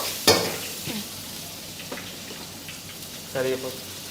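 Onions and green chillies fry in a pan with a steady soft sizzle, broken by a few stirring scrapes and clinks. Voices talk faintly underneath.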